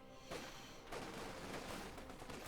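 Vickers K machine gun fire in the World War II strategy game Company of Heroes 2, a dense, continuous burst of rapid shots mixed with other battlefield gunfire, steady and fairly loud throughout.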